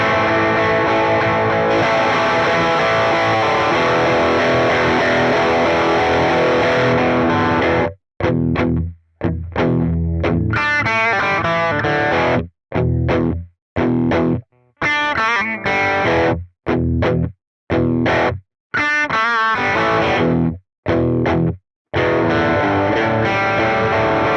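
A distorted electric guitar runs through a Quad Cortex modeler with blues-style boost settings: a long sustained chord first, then a string of clipped, stop-start strums and riffs, loud and up close.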